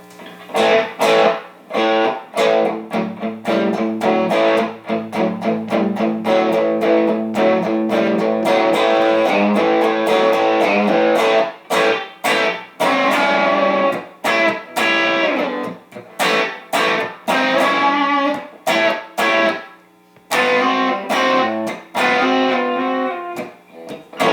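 Yamaha Pacifica 311H electric guitar played through the tapped humbucker in pickup position 1, a long run of picked notes and strummed chords with sharp attacks and brief pauses, loud and up close, no talking.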